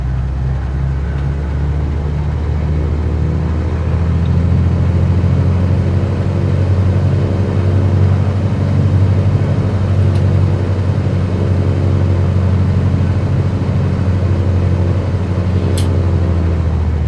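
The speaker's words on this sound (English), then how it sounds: "Cessna November 451 Oscar Golf is taking off runway 30 north departure." A simulated Cessna light aircraft in Microsoft Flight Simulator 2020 takes off from runway 30, its single engine a loud, steady, close droning hum that runs unbroken throughout with no talk over it.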